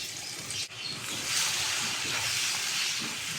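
Plenty of garlic dropped into a generous amount of melted butter, giving a steady, moderately loud hiss and fizz that holds throughout with no talking.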